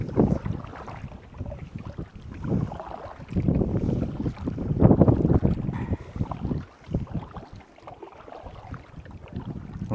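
Gusty wind buffets the microphone while a kayak is paddled back toward shore, loud rumbling bursts that rise and fall unevenly, with occasional water sloshing and no talk.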